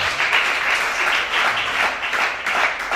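A church congregation applauds in sustained, dense clapping that holds steady throughout, loud and close, with no clear speech over it.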